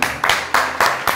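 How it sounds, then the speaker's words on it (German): A few loud, close claps in a slow, uneven rhythm, more like a handful of people than a full crowd. "Einmal Applaus."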